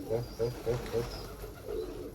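Pigeons cooing near a feeding spot, a run of four soft rhythmic coos followed by a longer drawn-out one, close and clear over faint background noise.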